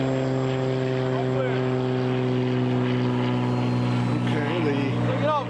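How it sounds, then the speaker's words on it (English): Propeller engine drone from a formation of warbirds, a B-17 bomber with a P-51 Mustang and a Corsair, holds a steady, loud, harmonic hum throughout, with a voice talking over it. "B-17 low with the P-51 up high off its left wing, and the Corsair right out here in front off the right wing."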